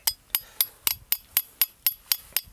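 Hammer strikes on copper being shaped into a bracelet, about ten sharp metallic blows in a steady rhythm, each one ringing briefly and close by, with no talk.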